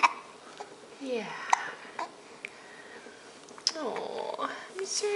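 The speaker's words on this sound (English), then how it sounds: "I'm sorry you have the hiccups." Young child hiccuping at home, a few short sharp hiccups spaced out between quiet stretches, close to the microphone, with some soft breathy voice sounds between them.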